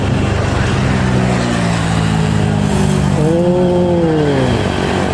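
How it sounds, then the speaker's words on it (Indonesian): A PT Rapi bus passing on the road, its loud engine drone and rising then falling horn-like tones sweeping by close amid steady traffic noise. "terpantau bus PT Rapi"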